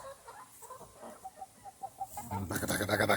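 Chickens kept on corn feed cluck in a run of short, rhythmic calls that build into a louder, denser chorus of several birds near the end.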